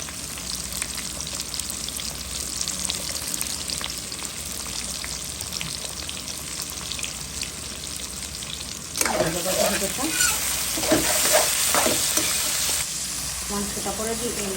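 Onion, garlic and tomato frying with salt in a pan for a chicken and potato curry, a steady sizzle that turns louder and busier partway through as the mixture is stirred, with scraping against the pan.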